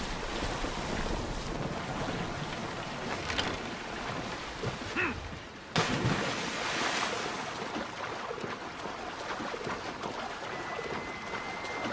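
Waves and surging water rush steadily around a boat in the game Assassin's Creed Odyssey, a continuous loud wash with wind noise and a brief splashing swell midway.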